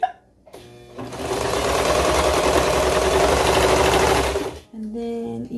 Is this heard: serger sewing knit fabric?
yes